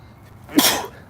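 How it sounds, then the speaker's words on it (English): A single sharp sneeze, quick and close, bursting out of near silence. "Sorry in advance for another sneeze."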